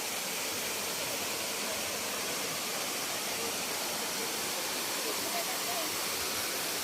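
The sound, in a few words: waterfall at Bolinao Falls 1, Pangasinan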